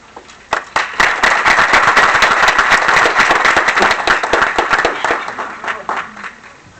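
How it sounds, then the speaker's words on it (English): An audience at the Charleston Interfaith Gathering breaks into loud, sustained applause, dense clapping rising sharply and holding steady for several seconds before thinning out toward the end. "Can we have another round of applause, please?"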